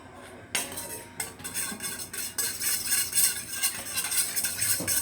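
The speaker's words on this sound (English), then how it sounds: "so I'm just whisking to incorporate" A whisk clinks rhythmically against a bowl while ingredients are mixed for a salad, with quick repeated metallic taps near and fairly quiet; no talking.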